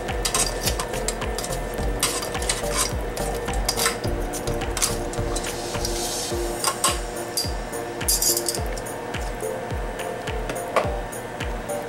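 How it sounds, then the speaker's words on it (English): Crab pieces, four in all, clatter into a metal pot of liquid for boiling, with a steady run of knocks, scrapes and clinks of cookware close by, fairly loud and continuous with no talking. "you want to add the crab into the pot"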